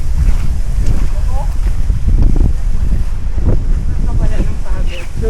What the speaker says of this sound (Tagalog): hindi mainit kasi ang lakas ng hangin